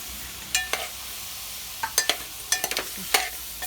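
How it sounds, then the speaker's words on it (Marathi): Tomatoes go into a mutton curry in a pan, with scattered spoon scrapes and clicks of stirring over a steady low sizzle, close and fairly quiet, with no voices. "सॉरी, टोमॅटो टाकते, कोकम नाही."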